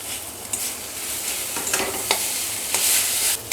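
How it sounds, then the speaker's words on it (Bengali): Mashed potato is stirred in a pan over medium-low heat for a Kolkata-style egg devil, with a loud close sizzle and repeated scraping spatula strokes. "এই যে ম্যাশ করে রেখেছিলাম আলুটা আমি দিয়ে দিলাম।"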